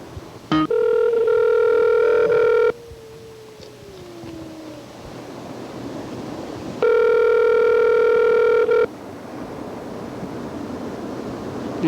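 A telephone ringback tone on an outgoing call sounds twice, each a steady electronic tone of about two seconds, with a few seconds of quiet line hiss between the rings.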